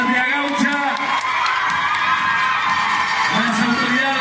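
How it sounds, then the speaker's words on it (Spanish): Crowd cheering and shouting with applause at the Patria Gaucha festival, a sustained loud mass of voices close by, with the clamour continuing throughout and whoops rising above it. "Fuerte el aplauso de la patria gaucha."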